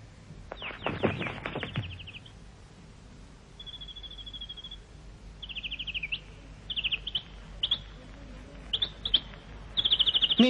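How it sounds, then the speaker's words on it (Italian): A nightingale sings in an animated TV version of Andersen's fairy tale: a dense burst of rapid trills opens, then a sustained whistled note and a run of short, bright chirps and phrases follow at moderate loudness, with no talking. "Min Min ha trovato l'usignolo"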